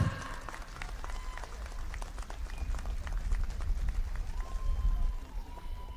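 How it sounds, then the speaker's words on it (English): A crowd at an outdoor political rally in Shillong claps steadily in a dense, sustained patter of applause, moderately loud and continuous throughout. "I request everybody to kindly clap."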